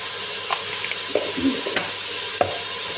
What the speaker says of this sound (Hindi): लो जी, तकरीबन मैंने 2 से 3 मिनट के लिए टमाटरों को और प्याज को भून लिया इकट्ठे